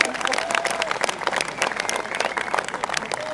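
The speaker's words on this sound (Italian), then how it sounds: "Un bel applauso per Matteo Bonini!" An audience claps and cheers for motocross rider Matteo Bonini at a Cairoli and stars event, lively applause with crowd voices running throughout.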